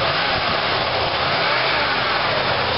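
A 1990 Cadillac Eldorado 4.5-liter V8 runs smoothly at a steady idle, an even, continuous engine hum heard up close with no talking.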